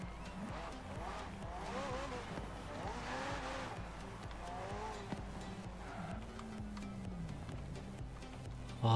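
Racing car engine in Forza Horizon 4 revving up and accelerating, rising and shifting engine tones with tire squeal, steady and fairly loud, over game music.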